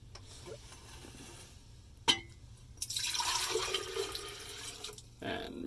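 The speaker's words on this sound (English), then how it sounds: "I'm just going to pour off this water off the top here" Water is poured off settled ochre earth pigment in a glass dish: a sharp glass clink, then a steady close splashing trickle that stops and briefly resumes.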